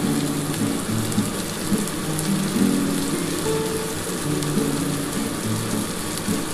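Paneer tikka fries in a pan with a steady, close hiss and crackle of hot oil that runs continuously, with faint background hum and no talking.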